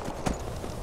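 Hooves of a horse in Skyrim clop in a quick, close burst with one sharper hit in the middle, heard alone over a steady game ambience.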